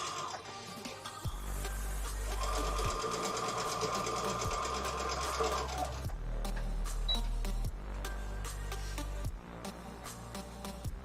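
A sewing machine stitches along the edge of a fabric scrunchie in quick mechanical runs, starting and stopping several times with brief pauses between bursts, close and clear with no talking.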